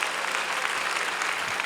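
A church congregation gathered for a peace and reunification prayer rally breaks into steady, dense applause, many hands clapping together throughout, loud and close with no gaps.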